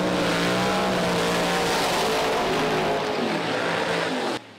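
A Pro Stock drag racing car idles on the starting line with a loud, steady, high-revving engine drone close by, cutting off abruptly near the end.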